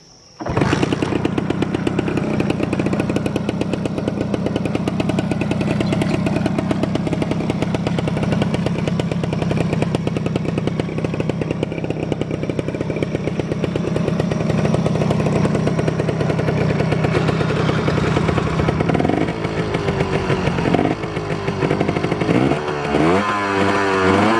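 Honda Tena motorcycle converted for off-road riding, its engine idling close up after the key is turned: a steady buzzing putter held for over twenty seconds, with a slight change in tone near the end.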